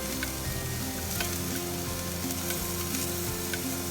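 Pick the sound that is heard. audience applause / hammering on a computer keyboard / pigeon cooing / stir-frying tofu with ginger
stir-frying tofu with ginger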